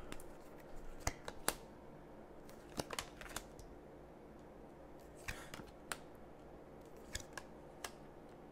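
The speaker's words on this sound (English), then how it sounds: "I'm going to shuffle one more time here and cut these cards." A deck of cards is shuffled and cut for a tarot-style reading, giving sparse, faint riffling clicks and soft snaps scattered through a quiet stretch with no talking.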